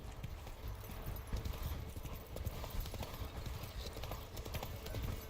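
Roach the horse in The Witcher 3 trots along with a continuous soft clip-clop of hooves, fairly quiet and partly buried under low rumbling game ambience.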